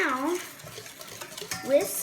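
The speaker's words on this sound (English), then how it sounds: "whisk until thick and creamy" A crème brûlée custard mixture is whisked in a bowl, the whisk clinking and scraping against the sides in quick, uneven strokes, with a voice briefly heard over it.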